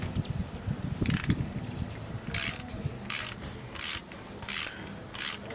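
A hand ratchet tightens the strut top nut on a BMW Mini R50, giving short, crisp clicking bursts repeated about six times at a steady pace, close up, over a low background hum.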